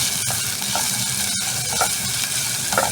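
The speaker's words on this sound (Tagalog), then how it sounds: "So, after ng garlic, lagyan na natin yung ating onion" Chopped onion added to garlic in a hot pan for chicken adobo hisses in a loud, steady sizzle, with soft stirring scrapes running through it, close up.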